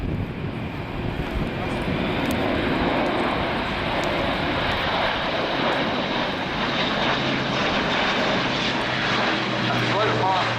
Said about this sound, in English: A slow pass here with the undercarriage down.